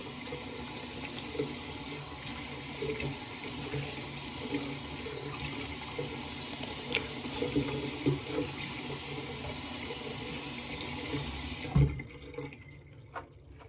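Cold water runs steadily from a bathroom sink tap during a face rinse, a close, constant splashing stream with faint shifts as hands move through it, before the tap shuts off near the end.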